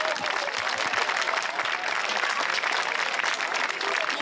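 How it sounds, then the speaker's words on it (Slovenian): Steady applause from an audience at a school initiation event, dense and continuous clapping that fills the whole stretch with a faint crowd murmur underneath. "Tako da en aplavz, prosim."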